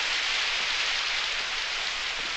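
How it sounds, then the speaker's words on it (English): Steady heavy rain falls in a dense, continuous hiss, close and even throughout, with no voices. "We'll just have to wait till the bloody rain stops."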